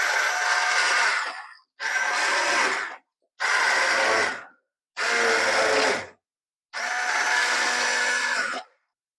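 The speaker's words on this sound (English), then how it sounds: "we're going to put the immersion blender in here and blend the peaches up some" An immersion blender whirs through peaches in five separate bursts of a couple of seconds each, with brief silent pauses between them.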